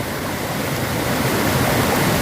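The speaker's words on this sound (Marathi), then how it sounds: "शिंदेवाडीच्या पुलावर पाणी चाललेलं आहे हे बघा" Heavy floodwater after torrential monsoon rain rushes over a village bridge in the Parali valley, Maharashtra, with debris jamming its pipes; a loud, steady, close roar of broadband water noise fills the whole stretch.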